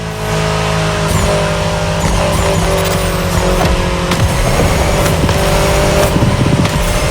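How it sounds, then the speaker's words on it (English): BMW M4 Liberty Walk Edition driven in The Crew Motorfest, a loud close engine droning and revving continuously with tire squeal and skidding, no talk. "Back with the BMW M4 Liberty Walk Edition"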